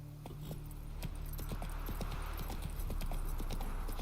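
Hooves of Geralt's horse Roach in The Witcher 3, a brisk clip-clop of hoofbeats over a continuous low rumble of game ambience, with light jingling tack and no speech.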